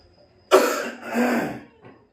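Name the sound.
coughing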